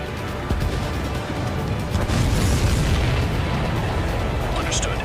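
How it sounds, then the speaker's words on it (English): A missile blast from a fighter jet in the Ace Combat 7 flight game, heard as a sustained loud rumbling boom and roar that swells across several seconds, with radio chatter mixed in. "Missile away."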